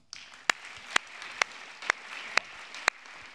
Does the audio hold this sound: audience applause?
yes